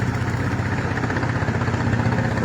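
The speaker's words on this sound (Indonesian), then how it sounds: "Kali ini saya melihat aktivitas sebuah kapal ketek dengan di mesin sedotan pasir." Engine of a ketek boat running a sand suction machine on the Musi River in Palembang, a steady low droning chug that holds at an even, fairly loud level throughout, with no voices.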